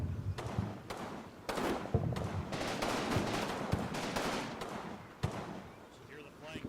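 Heavy machine gun fire and artillery thud through a Combat Mission battle in repeated bursts of sharp cracks and booms. Someone talks over the shooting.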